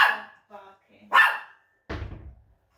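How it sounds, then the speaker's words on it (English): A few sharp barks from a neighbor's dachshund in quick succession, followed by a dull thump; the barks sound clear and fairly close, with no talking. "Next door's dog barking as we speak"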